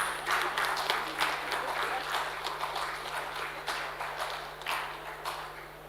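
Audience applause during a memento and certificate presentation at a feed, food and waste event, scattered moderate clapping heard somewhat distant over a steady low hum.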